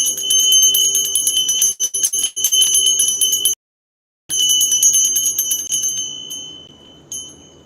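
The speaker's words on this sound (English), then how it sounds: "I'm about to ring the bell," A bell rung before a prayer, its bright metallic rings layered and repeated, loud and close, cutting off briefly before ringing again and decaying into a lingering shimmer, with no one speaking.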